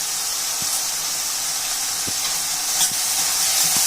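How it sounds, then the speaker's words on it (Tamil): Steady, dense sizzling of onions sautéing in a pan on the heat, a continuous bright hiss with a few soft clinks of a utensil stirring. "நல்லா நல்லா கண்ணாடி பதத்துக்கு வர மாதிரி வதக்கிக்கலாம் இந்த வெங்காயத்தோட"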